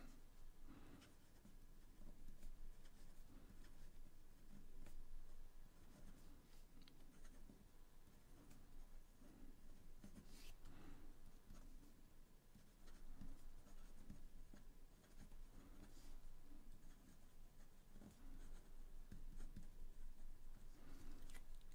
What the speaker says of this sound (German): ihr könnt gleich mal hören, wie die Feder hier über das Papier gleitet